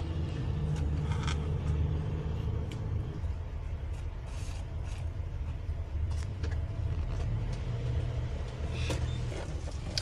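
A car pulls away outside a 7-Eleven, its steady engine rumble loud and continuous through the whole stretch, with traffic noise around and no talk.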